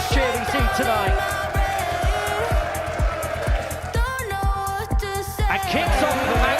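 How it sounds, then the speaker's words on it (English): Loud crowd cheering and whooping at a live darts event, Series 11 Champions Week, with a steady thumping music beat underneath and commentators talking over the roar throughout. "that might well be the biggest cheer we see tonight"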